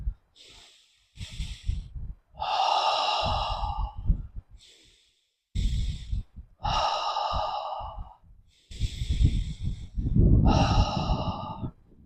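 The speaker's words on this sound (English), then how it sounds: "When I breathe in, my belly comes forward, and when I want to breathe out, the belly goes inside." Slow deep belly breaths, long airy inhales and exhales in a steady alternating rhythm, close and fairly loud, with soft sighing exhalations and no talking.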